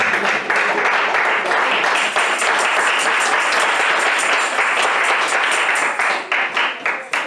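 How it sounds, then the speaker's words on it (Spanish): A large church congregation applauds loudly and continuously for several seconds, dense overlapping claps that thin out into scattered claps at the end. "Dale palmas al Señor."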